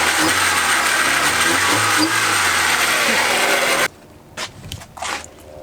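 A Honda Accord engine runs loudly and steadily with a rough, rising rumble for several seconds, then cuts off, leaving a few faint clunks.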